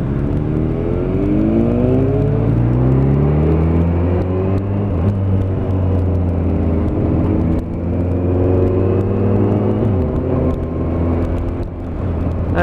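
Motorcycles on a road during a Sunday group ride: a loud, close, steady engine drone that rises and falls through gear changes and throttle, continuous for several seconds with no voices.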